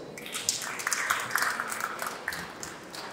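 A crowd claps at a gathering, steady applause from moderately far away, with no voices over it.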